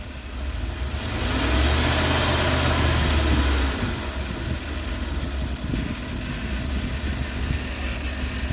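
A Dodge conversion van engine idles after a head replacement, a rough close rumble that rises briefly with a little throttle before settling back to a steady idle, with no one speaking.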